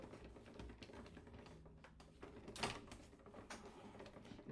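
Paper is cranked through an Intercut die-cutting machine, producing faint clicking, ticking and creaking mechanical sounds with one brief louder rattle midway, heard close and quiet.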